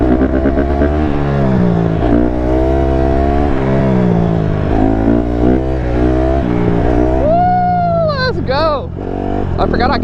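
A straight-piped Honda CRF150RB dirt bike holds a loud, buzzy, steady engine note close by, then revs up in rising and falling surges toward the end.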